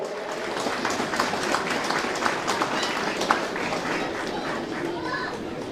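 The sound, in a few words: applause at camogie final presentation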